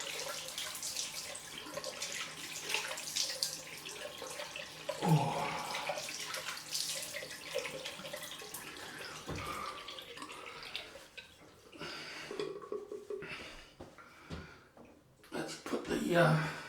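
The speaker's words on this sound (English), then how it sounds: "Cold water rinse." Cold water runs from a bathroom tap for a post-shave rinse, a steady splashing hiss with drips and hand-splashing sounds, close by, broken briefly by a short spoken exclamation.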